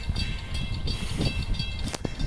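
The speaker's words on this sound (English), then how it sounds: "So there's a freight train coming through right now." A freight train rolls through a level crossing at Mundijong with the gates down, its steady low rumble of wheels and wagons filling the scene, loud and close, with faint rattles and a brief sharp squeal near the end.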